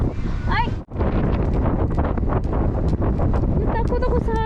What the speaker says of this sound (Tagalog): Natakot ako sa hangin.